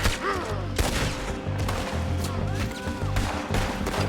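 Gunfire in a Red Dead Redemption 2 shootout, rapid overlapping shots cracking continuously amid game music and ambient noise, with voices faintly present.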